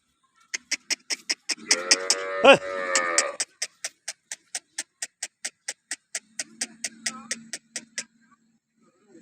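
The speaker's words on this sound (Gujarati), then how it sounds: "અને દુધાળ ગાય છે" A dairy cow in a farm shed lets out one long, loud mooing call over a steady, rhythmic ticking nearby, with a faint low hum later on.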